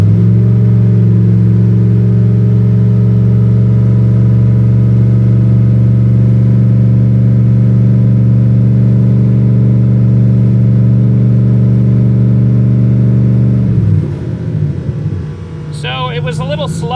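A turbocharged junkyard LS engine held at high revs, a loud steady droning roar for most of the time before dropping abruptly and settling toward a lower, rougher note.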